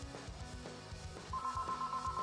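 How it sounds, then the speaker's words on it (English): A telephone rings with a repeated electronic tone over a steady rhythmic background of game music. "Oh, that's a phone call."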